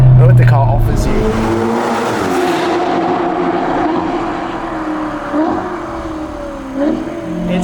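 A Novitec-tuned Ferrari Portofino M with a 688 hp engine and aftermarket exhaust, heard as a loud, close engine roar that fades into a sustained drone with brief revs, with a voice talking over it.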